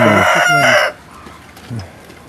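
A rooster crows loudly and close by in one short burst, followed by a faint cluck in a quiet backyard hobby poultry coop.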